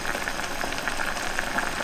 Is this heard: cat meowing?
no